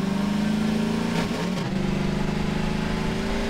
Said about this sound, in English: The transmission sounds a bit bad on this vehicle.